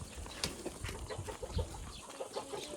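Chickens cluck softly in a quiet outdoor setting, scattered short calls over faint background noise.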